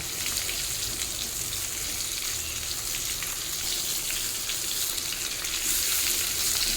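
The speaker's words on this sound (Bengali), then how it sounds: "পটলের সঙ্গে আলুটাও মিনিট 5 ভেজে নেব।" Sliced pointed gourd and potatoes fry in hot oil in a pan, giving a steady, fairly soft crackling sizzle that runs evenly throughout with no voices.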